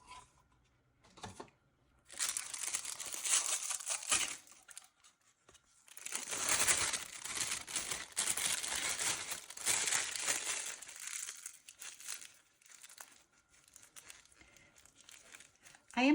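A plastic piping bag being handled and crinkled during epoxy resin work, close crackling bursts in two long stretches separated by a brief pause, fading into lighter rustles, with no talking.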